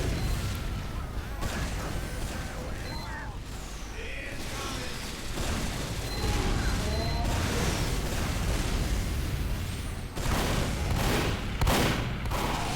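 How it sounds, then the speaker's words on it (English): Shotgun fire in a Team Fortress 2 Goldrush payload match, repeated booming blasts amid a dense, continuous din of game combat, with loud explosive bursts spread throughout. "Knows how to use a shotgun."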